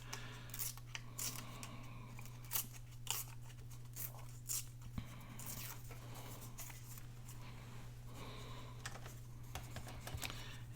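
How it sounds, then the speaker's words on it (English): Old, fragile junk-mail envelope paper is torn by hand in short, close, soft ripping and crinkling bursts against a quiet steady background hum. "I'm going to tear this just a little bit up here."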